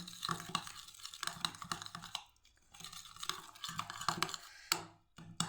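Oregano and spices for dynamite chicken are stirred together in a bowl, giving a close run of scratchy, gritty scraping strokes in irregular bursts with brief pauses.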